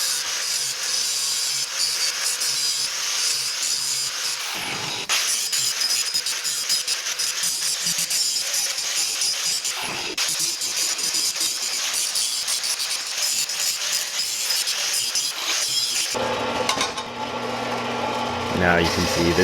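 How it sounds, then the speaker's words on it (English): An angle grinder opens a slot in a 1 by 2 inch steel tube with 1/8 inch walls, grinding loudly and steadily with brief breaks and a shift in tone near the end. "I take an angle grinder to kind of open up the slot"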